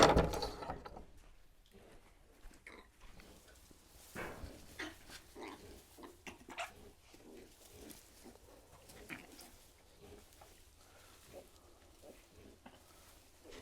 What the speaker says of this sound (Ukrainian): Опа, поросятко.